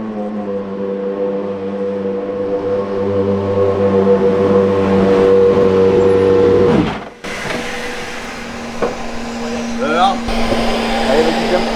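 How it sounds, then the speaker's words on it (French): A Rebellion R13 LMP1 race car engine drones steadily and loudly for several seconds, then cuts off sharply, leaving a lower, rougher hum with intermittent clicks and a brief voice underneath. "je cache le son du moteur de la LMP1"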